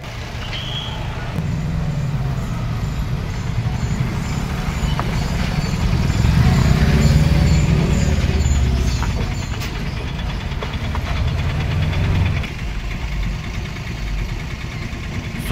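Vehicles sit in a stalled jam on the Devla–Sogras highway, with steady low engine idling and rumble as trucks and cars creep along, the traffic noise fairly loud and continuous with a brief swell in the middle.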